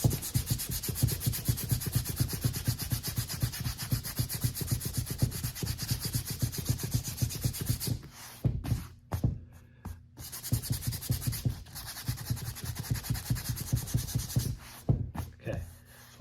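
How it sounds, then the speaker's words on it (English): Steady rhythmic hand sanding of air dry filler, smoothing it level with quick close back-and-forth strokes that pause briefly a few times before resuming. "Scrape it level, sand it smooth."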